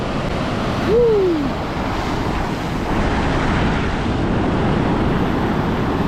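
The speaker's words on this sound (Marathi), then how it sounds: "एवढ्या मोठ्या मोठ्या लाटा येतात" Heavy ocean waves roar on and on at a shore where fish are caught by hook and line, with wind buffeting the microphone, and one short whistled tone cuts through near the start.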